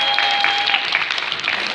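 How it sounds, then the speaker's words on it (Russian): A talent show audience applauds a juggler with a steady, dense wash of clapping, with a brief tone in the background at the start. "Под ваши аплодисменты."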